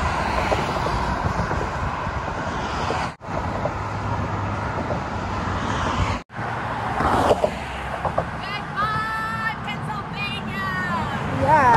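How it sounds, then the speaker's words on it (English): Big trucks roaring past on a road near the Delaware Water Gap, loud broadband rumble in several passes with brief gaps between, then a voice speaking over the traffic. "Big old trucks going by. It's very loud."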